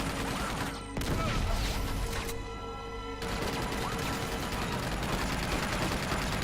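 Bursts of gunfire from blind firing over cover in Uncharted 2: Among Thieves, dense and continuous with a brief lull midway, loud against a busy game soundscape.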